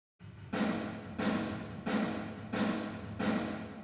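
Black metal drum hits soaked in reverb, five evenly spaced strikes each trailing a long bright wash of decay, loud and alone with no talk.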